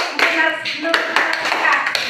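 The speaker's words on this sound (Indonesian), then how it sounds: "Tepuk tangan dulu." A class of students claps hands in a classroom, producing a few sharp, irregular, close claps mixed with voices talking over them.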